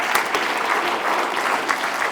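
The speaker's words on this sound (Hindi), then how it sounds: "सामी सर स्टेज पे आए, ताली बजाया सामी सर के लिए।" An audience claps at a school award ceremony as a teacher comes on stage, a short, dense burst of steady applause filling the hall.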